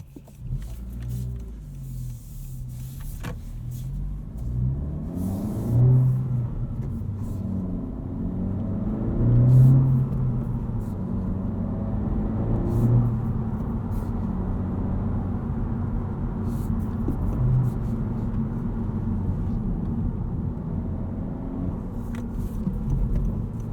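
Engine of a 2022 Honda Civic Si sedan with rev matching turned off, heard from the cabin: a low continuous rumble that rises and falls through several revving surges and shifts, loud and unaccompanied by talk.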